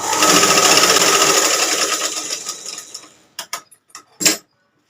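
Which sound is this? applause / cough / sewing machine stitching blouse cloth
sewing machine stitching blouse cloth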